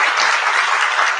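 An audience applauds in a dense, steady burst of clapping that stays loud and close throughout, with no voices on top.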